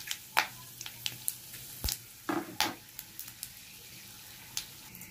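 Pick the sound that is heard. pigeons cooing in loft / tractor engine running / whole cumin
whole cumin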